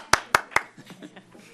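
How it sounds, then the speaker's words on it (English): A few loud claps from a zoning board meeting audience, three sharp close claps in quick succession followed by fainter scattered clapping and murmuring voices. "I was clapping for them."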